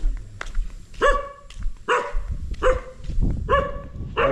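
Dog barking outdoors near a house with tall grass, four loud barks at a steady pace standing out over rustling background noise.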